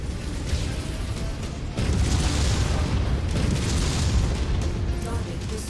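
Rumbling missile blasts from the mech combat game MechWarrior 5, a dense, continuous roar of booms and crackle, louder after the first couple of seconds, with no clean pauses between impacts.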